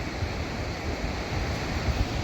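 River water flowing through the Youghiogheny River Gorge in Ohiopyle State Park: a steady, broad rushing roar with no pauses, fairly near and continuous throughout.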